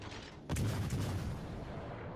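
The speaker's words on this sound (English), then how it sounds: "Iowa finally fired, caught me a little bit" The battleship Iowa's big guns fire in a naval combat game: a single deep, heavy boom lands abruptly, then rumbles on and slowly fades, heard fairly distant under the game's ambient noise.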